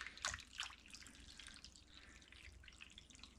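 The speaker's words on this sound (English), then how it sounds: "it looks like I'm going to need to add some more water" Water drips and splashes into a container as more is poured in to cover a rusty vice grip clamp for restoration, with a couple of louder splashes at the start, then a steady trickle close by.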